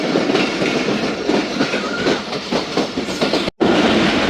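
Express passenger train running on rails at night, a loud steady rumble with rhythmic wheel clatter throughout, broken by a brief dropout near the end.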